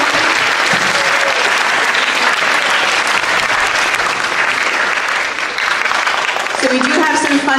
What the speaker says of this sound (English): So if you guys don't mind giving them a round of applause for helping us out today